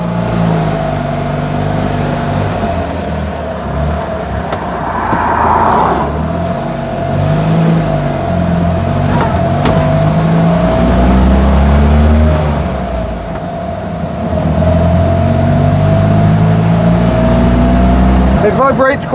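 A Fiat 500 engine idles and revs steadily close by, with a low rumble and a constant hum throughout, occasionally rising as it accelerates.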